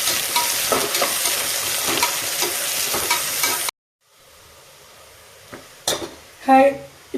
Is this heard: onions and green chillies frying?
yes